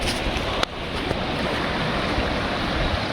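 Continuous rushing water of the Nilip River in Karbi Anglong fills the scene, a steady broad wash like a flowing river, with a brief knock near the start.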